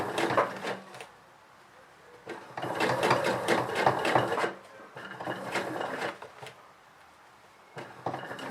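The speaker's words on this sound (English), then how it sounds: "continue sewing until you reach the top of the pocket again" A sewing machine stitches the back pocket of a pair of jeans in bursts of steady, fairly loud running, with short pauses where the needle stops and pivots.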